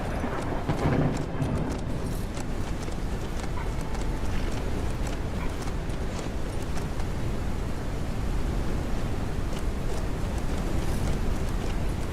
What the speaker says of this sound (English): Now the horse ran me straight into a tree then.